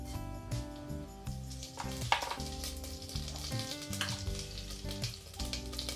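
Cinnamon sticks, cloves and cumin seeds sizzle in hot ghee for a seven-grain khichdo, a steady frying crackle running under prominent background music.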